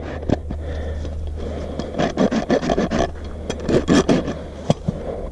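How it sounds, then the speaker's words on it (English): A rasp rolls the edge of a little rescue jack's hoof during a trim, with a short run of rhythmic, close scraping strokes between quieter moments. "I can just roll this edge just a little bit with my rasp"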